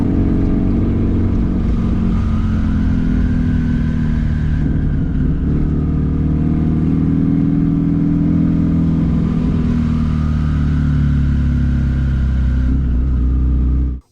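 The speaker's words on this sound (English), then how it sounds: "It's just turbo whistle and more turbo whistle." A tuned twin-turbo Subaru STI runs steadily under load, its engine drone loud and continuous throughout with a rising and falling turbo whistle layered on top, heard alone from inside the car.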